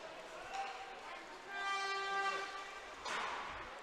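A goal horn blares in the arena at a bantam AAA hockey championship game, a long tonal blast over crowd noise and arena chatter, followed by a burst of cheering and whistles.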